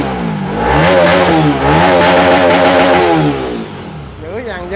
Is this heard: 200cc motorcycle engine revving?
yes